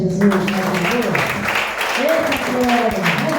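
Church congregation applauding together during a worship service, a dense spread of clapping under loud voices, singing or music that dominates the short passage.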